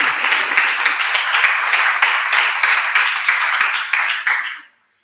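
A meetup crowd gives a loud, dense round of applause that fills the room, then cuts off abruptly into silence near the end.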